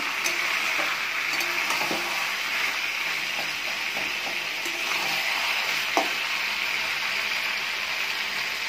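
Spice masala for a chicken curry frying in a pan, a soft continuous sizzle with occasional light stirring taps, close and steady with no voices.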